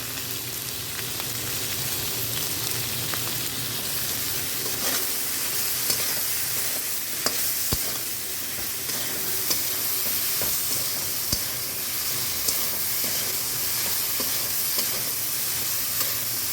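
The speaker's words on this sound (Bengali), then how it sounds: "সবজিগুলো বেগুনগুলো অনেকটা মজে এসেছে এরমভাবে আর পাঁচ মিনিট আমাদের নাড়িয়ে নিতে হবে" Chopped vegetables and eggplant frying in a pan for a punarnava greens dish, a steady close sizzle broken by occasional clicks and scrapes of a spatula stirring throughout.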